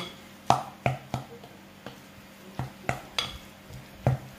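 Minced pork meatball mixture being stirred with bread flour in a bowl, a series of sharp utensil clinks and scrapes against the dish at an irregular rhythm, close and fairly quiet.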